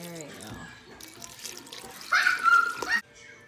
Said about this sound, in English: what I'm gonna do is add some distilled water